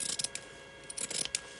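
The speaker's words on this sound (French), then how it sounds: "moi j'utilise un cranteur parce que là j'ai un tissu d'ameublement, donc qui est très compliqué, bien entendu, à couper" Pinking shears snipping through thick upholstery fabric, a few quick close crunchy cuts in short bursts, quiet and without talk.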